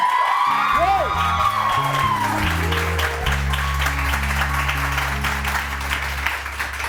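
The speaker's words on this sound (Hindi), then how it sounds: "आप लोग जोश में तालियां बजाएं" Studio audience applause and cheering on a Pakistani New Year's morning TV show, loud sustained clapping with whoops, under a steady music bed with a voice calling out briefly at the start.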